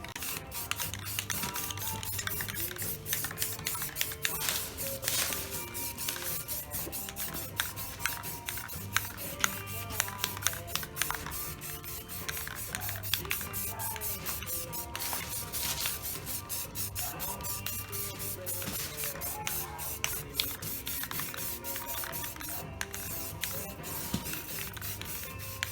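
Aerosol spray paint hissing onto a metal part after rust removal, steady bursts with short pauses and faint rubbing, close and continuous with no talk.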